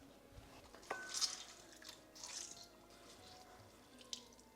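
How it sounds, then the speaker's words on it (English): Salted, wet bitter gourd (karela) pieces are squeezed by hand, letting out faint drips and small splashes of water in a few quiet bursts at close range. "So what I'm going to do is just squeeze the extra moisture out of the Karelas."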